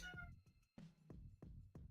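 A cat meows several times in short, close calls, with brief pauses between each one and no talking.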